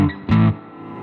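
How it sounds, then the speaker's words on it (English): Electric guitar played through a Big Sky Drive overdrive pedal, a short overdriven chord burst with a slightly compressed, gritty tone that rings briefly and then decays into a sustained tail, close and alone. "you can get these tones from the Big Sky Drive"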